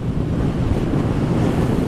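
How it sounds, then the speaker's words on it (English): Strong wind roars and buffets the microphone, a dense low rumble with no voices. "It's windy."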